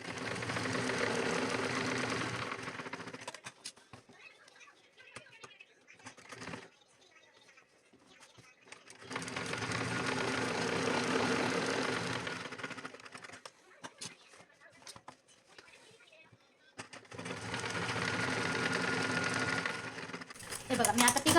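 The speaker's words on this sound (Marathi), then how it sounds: "आता यांना डबल शिलाया मारून घ्यायच्या" A sewing machine runs in three long bursts, double-stitching the seams of a jute sack being made into a travel bag, with quieter pauses between runs where faint handling sounds occur.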